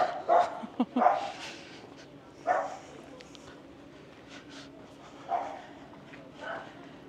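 A small pet dog named Rocky barks in a few sharp, separate bursts near a campervan in a snowy Finnish village, with a softer bark or two afterwards and people talking in the background.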